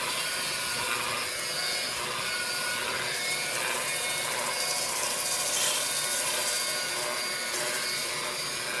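Marble surface being polished with a 400-grit pad to cut through an old wax seal, a steady loud whirring grind with rubbing friction that holds constant throughout, no talking.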